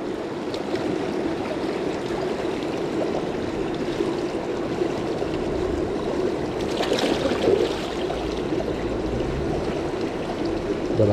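Fast-flowing stream water rushing steadily, a constant close broadband wash with a slight swell in turbulence midway and no voices.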